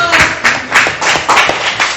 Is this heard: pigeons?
no